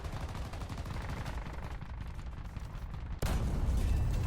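Dense, continuous booming gunfire rumbles throughout, with a sudden louder heavy blast near the end from a T-80UD tank cannon in War Thunder.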